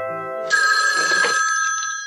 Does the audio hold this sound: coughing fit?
no